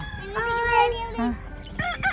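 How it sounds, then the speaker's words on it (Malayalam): A rooster crows loudly and close by, one long drawn-out call followed by clucking from chickens, in a yard with ducks and hens. "താറാവുകളും കോഴികളും അല്ലേ നിറയെ"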